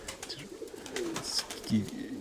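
Soft pigeon coos sound nearby amid faint rustling and background murmur, a few low burbling calls in quick succession.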